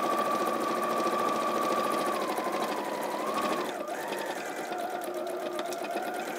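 Domestic sewing machine stitching a zipper in place, running steadily with a fast even whirr, briefly slowing and changing pitch near the middle as it reverses to backstitch, heard close and alone.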